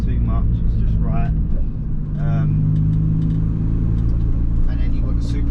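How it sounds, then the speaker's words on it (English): Supercharged Mini Cooper S R53 engine with an airbox conversion drones steadily at low revs from inside the car on a first drive, a continuous rumble with a faint whine, while a person talks briefly over it. "that supercharger sounds unreal"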